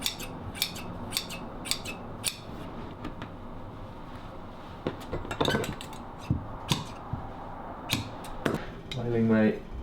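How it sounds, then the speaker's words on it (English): Tailor's shears being filed, a run of sharp metallic scrapes and clicks in short irregular strokes, close and distinct, with quiet room noise and brief speech-like sounds between them. "Filing my shears"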